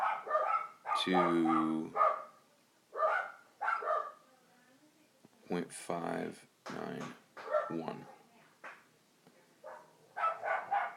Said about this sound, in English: I gotta take care of my dogs.